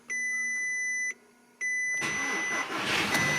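A black salvage Audi A3 Black Edition, with the ignition on and the key-on warning chime sounding in two steady tones, then the engine cranks and catches into a loud, rough idle close by.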